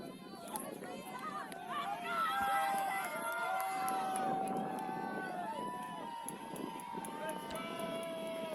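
Sideline crowd at an ultimate frisbee game against a Wall City zone, cheering and shouting loudly and continuously with whoops and voices layered over steady crowd babble.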